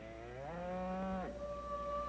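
Cattle on a rural ranch, a single close, drawn-out moo that slides in pitch and then trails off against quiet outdoor background.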